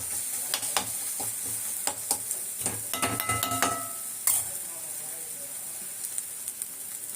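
Chili powder masala fries in a pan for a Chettinad-style mutton liver gravy, with a steady sizzle and hiss and scattered clinks of a spoon stirring against the pan through the first half.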